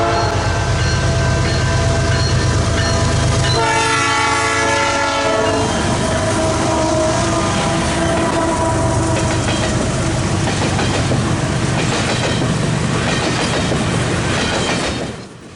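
A westbound CP coal-loaded freight train rolls past a mountain siding at Cambie East, sounding a loud, sustained multi-tone horn early on, followed by heavy rumbling and rhythmic clacking of wagons passing close by.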